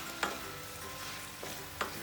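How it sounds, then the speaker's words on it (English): Hakka noodles are tossed into vegetables in a frying pan; a soft sizzle runs underneath while a utensil scrapes and clacks against the pan three times. "to mix the noodles into this vegetable."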